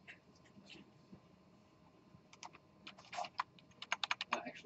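Computer keyboard keys clatter in a lecture classroom, sparse taps at first, then a quicker burst of loud keystrokes toward the end, over low room noise with no one speaking.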